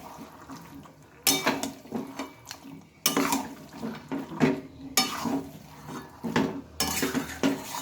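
Mutton being mixed with spices in a kadai, with bursts of metal spoon scraping and clattering against the pan in repeated strokes over a low sizzle, close and clear.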